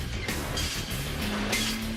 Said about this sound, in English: The screeching sound you hear is the noise the wire makes as it's pulled through machines that uncoil and straighten it